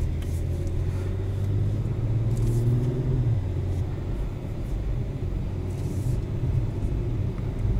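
An Acura TLX Type S, a 2021 model, drives in sport mode, its engine a steady low rumble with a brief rising pull in revs, heard from inside the cabin without talk.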